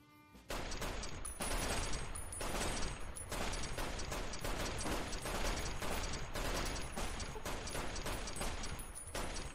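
Rapid, loud gunfire from a player's weapon, likely firing .223 rounds, hammers in tight repeated volleys with mechanical clacks in a video game, close and continuous after a brief quiet start.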